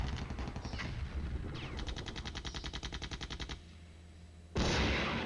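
Abrams tank opening fire in the Cold War strategy game Flashpoint Campaigns: rapid machine-gun bursts in a fast regular rhythm for a few seconds, a brief lull, then a loud blast of heavier fire.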